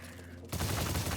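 Shotgun fire in the video game Immortal Unchained, a sudden loud blast that kicks in halfway through and roars on as a dense burst of gunfire over a low game hum.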